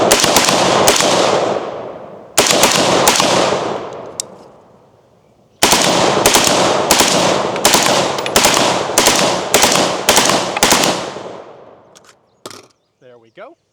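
Rapid, very loud rifle shots from an 11-inch barrel UBAR rifle, fired in close bursts of several cracks each with short pauses between, ending in scattered trailing reports.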